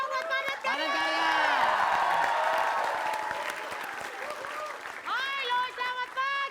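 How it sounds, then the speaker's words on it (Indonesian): A stage show audience breaks into loud sustained applause and cheering with children shouting, swelling then fading, while a presenter's voice carries over the crowd. "Kita tepuk tangan dulu dong buat Padat Padat Karya."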